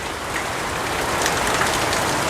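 Steady rain falls outside on a morning of the rainy season, a dense even hiss of drops spattering on surfaces that fills the short stretch without pause, fairly close and with no voices over it.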